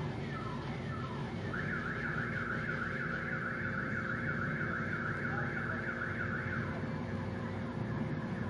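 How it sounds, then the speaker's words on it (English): A car alarm in Ozamiz City, Philippines, wails in a repeating rising-and-falling pattern at moderate distance over a low ambient hum, heard from inside a hotel room. "they have car alarms also here in the Philippines."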